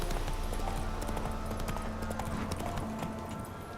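Horse hooves galloping in Witcher 3, a steady loud clip-clop rhythm running throughout over a dense background of game ambience.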